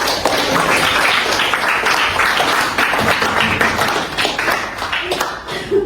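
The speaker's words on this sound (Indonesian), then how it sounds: "Tepuk tangan untuk kita semua." Classroom applause as a group claps hands together at the close of an Islamic religious education lesson in Indonesia, a dense, steady patter of claps holding for several seconds with some voices mixed in.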